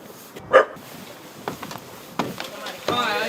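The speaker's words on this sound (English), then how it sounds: "I'm hearing another bark from over here." A dog barks from under steps at a run-down house, with one distinct bark and a few fainter, more distant yips among quiet outdoor noise.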